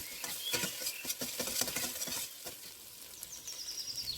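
Cloves, cardamom and cinnamon sautéing in oil with salt for Madina-style lamb kabsa rice: a soft, close crackling sizzle with scattered pops and light stirring clicks, fairly faint, with no talking.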